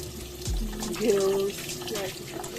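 Tap water runs over a cleaned tilapia as its gills are opened and rinsed out, a steady close splashing stream lasting about a second with a faint voice in the background.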